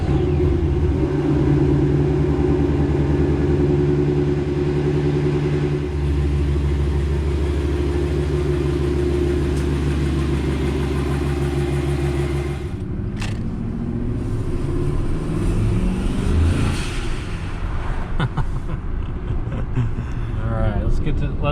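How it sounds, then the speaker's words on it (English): Turbocharged Ford F150 pickup truck engine rumbling steadily while driving, with a deep droning hum that shifts pitch partway through as the revs change, loud and close throughout. "Let's hop in the truck and go for a rip."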